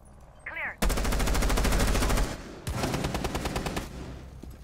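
Rapid automatic gunfire in Rainbow Six Siege rattles out in two close, loud bursts separated by a short pause, with a brief faint chirp just before the first burst.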